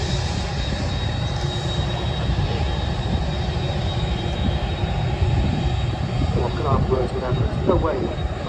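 Airbus A380 airliner at Manchester Airport, a loud continuous roar of jet engines close by, steady throughout, with voices talking near the end.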